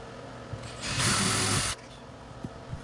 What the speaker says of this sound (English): I'm using a 1/4 inch drill bit to drill the hole.